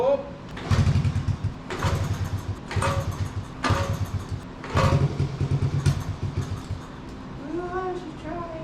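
A 1969 Honda Z50 mini bike that is leaking fuel is kicked over repeatedly, with a series of rhythmic, close clattering cranks and brief engine catches that fail to run, while a person speaks nearby.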